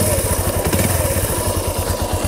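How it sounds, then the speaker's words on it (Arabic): A used motorcycle engine, such as a Honda C90 or Benelli, running steadily at idle with an even, throbbing mechanical beat, close and loud throughout with no talk. "يعني كتسمع الصوت تاع الموتور."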